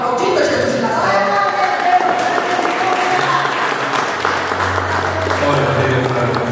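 Church congregation applauding for Jesus, a dense, sustained wash of clapping from many hands, loud and steady throughout, with voices mixed in underneath.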